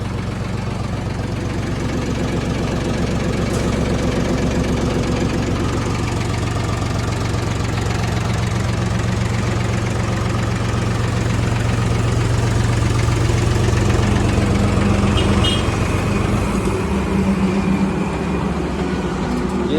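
A Mahindra 265 DI tractor, model year 2000, idles steadily for the whole stretch, a low, continuous diesel chugging rumble with no voices, loud and close.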